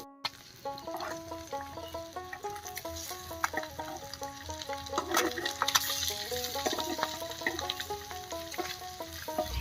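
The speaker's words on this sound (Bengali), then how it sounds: "এবার ভালো করে ঘুরিয়ে ঘুরিয়ে ডিমগুলো ভেজে নেব" Eggs sizzle in hot oil in a pan, a soft steady crackle and spatter heard fairly quietly beneath clinking and scraping of a utensil stirring them around.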